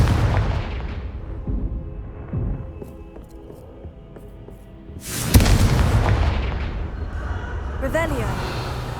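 A Confringo fire spell bursts in Hogwarts Legacy with a loud booming explosion midway, preceded by quieter rumbling game ambience and followed by a crackling, ringing tail.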